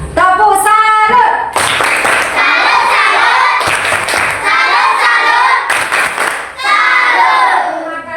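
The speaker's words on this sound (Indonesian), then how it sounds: "Tepuk salut." Classroom clapping after a student group's presentation, sharp rhythmic bursts of hand claps in patterned sequences, loud and close, with children shouting and cheering between the claps.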